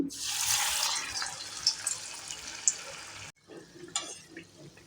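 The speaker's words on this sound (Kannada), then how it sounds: "ಎಣ್ಣೆ ಕೂಡ ಬಿಸಿಯಾಗಿದೆ ಮೀಡಿಯಮ್ ಫ್ಲೇಮ್ ಇಟ್ಟು ಕರಿತಾ ಇದ್ದೀನಿ" Green gram vade frying in hot oil over a medium flame, a dense, loud sizzle for the first three seconds that cuts off abruptly and gives way to quieter, intermittent bubbling.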